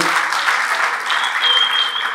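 A congregation at a preacher's sermon breaks into sustained, dense applause, loud and close, clapping evenly throughout with a faint murmur of voices mixed in.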